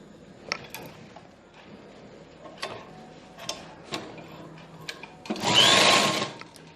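A sewing machine stitches a cloth cosmetics bag closed, with scattered soft clicks and ticks leading into a short, loud whirring burst of stitching lasting about a second.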